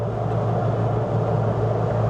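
Car with a BMC A-series engine being driven under throttle; a steady, loud interior engine and road drone holds without a break for about two seconds.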